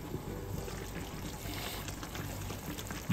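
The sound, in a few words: pouring hot water into miso sinigang with salmon belly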